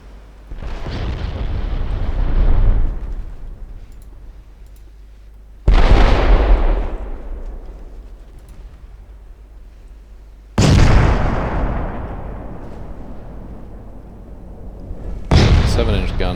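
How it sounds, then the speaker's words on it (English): Seven-inch naval guns fire in a warship battle in Ultimate Admiral Dreadnoughts, with four separate heavy booms spaced several seconds apart, each a loud blast followed by a long rolling decay. "Seven-inch guns are not doing that much to that heavy cruiser."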